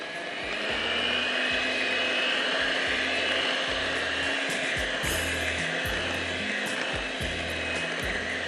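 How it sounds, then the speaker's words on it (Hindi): An electric hand mixer whirs loud and steady, beating two eggs into melted chocolate chip brownie batter. The motor drones continuously with a faint rhythmic knocking of beaters against the bowl underneath. "अब मैं इसमें 2 अंडे शामिल करूँगी और उसको बीट करूँगी"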